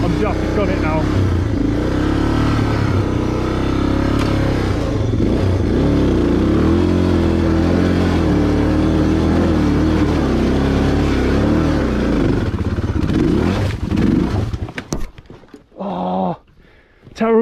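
A motorcycle loaded for moto camping revs hard and long, its engine loud and close as it strains to pull the back wheel out of a rut, then drops off near the end to a few short bursts.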